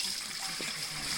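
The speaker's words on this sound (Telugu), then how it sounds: "మళ్ళీ ఇంకా 3 సార్లు కడగాలన్నమాట బియ్యం కడిగేటప్పుడు" Water splashes and runs steadily as rice is rinsed in a pot, a continuous close wash with no talking.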